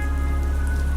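Steady rain falling outdoors, a loud close dense patter on surfaces with a low constant rumble underneath, no voices.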